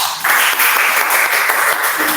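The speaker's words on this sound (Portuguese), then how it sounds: "É um aplauso estimulado" Small group in an online class or meeting giving brief prompted applause, a short dense burst of clapping that starts abruptly and holds steady.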